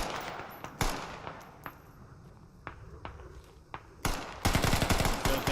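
Gunfire in the tactical shooter Squad, played on the Kamdesh map: scattered single shots and short bursts ring out at varying distances, building into a loud, rapid automatic volley at the end.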